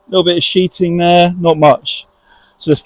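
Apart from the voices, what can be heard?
No everyday noise stands out behind the speech.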